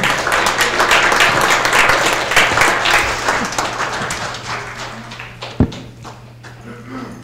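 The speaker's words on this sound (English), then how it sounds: "Ed, give him a round of applause." A room full of people at a rally and town hall meeting applauds loudly, the clapping gradually thinning out toward the end, with a low hum in the background.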